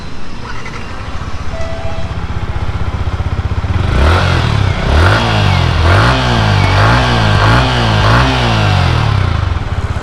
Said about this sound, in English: कुछ इस तरह से एग्जॉस्ट नोट है